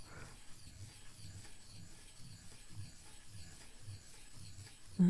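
An ink stick is ground against a stone with water, giving a faint, close, rhythmic rasping rub that repeats in even strokes about twice a second, with no voices.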